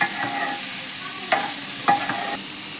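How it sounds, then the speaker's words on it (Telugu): Onions and cluster beans fry in a pan while being stirred, giving a steady close sizzle broken by a few sharp scraping strokes of the spoon. "ఉల్లిపాయలు బాగా వేగుతాయి."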